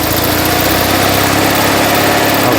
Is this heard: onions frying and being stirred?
no